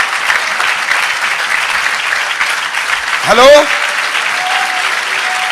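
Congregation applause during a pastor's sermon, a steady crowd clapping throughout, briefly overlaid by a short rising voice or tone midway.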